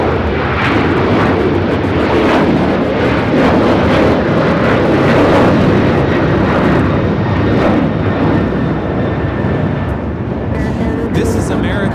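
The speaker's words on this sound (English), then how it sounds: "This is American Airlines 1084 taking off to Chicago on the 737-800." Close by, an American Airlines Boeing 737-800 takes off for Chicago in a loud, sustained jet roar with gusty wind buffeting the microphone, while a voice talks over it.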